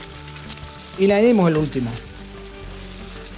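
Eggs sizzle steadily in a hot pan for scrambled eggs with garlic shoots, the frying loudest as they go in, with a person speaking briefly over it.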